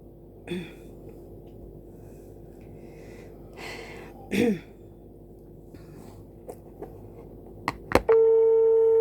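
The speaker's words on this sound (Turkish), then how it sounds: "Çalıyor." An outgoing telephone call's ringing tone starts as a steady, clear tone near the end, after a quiet room with a few soft breaths and sniffs.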